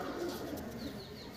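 A Madras pigeon coos softly in a loft, a faint, low, rolling call with a few high chirps from other birds in the background.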